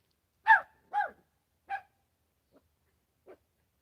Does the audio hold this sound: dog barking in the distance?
yes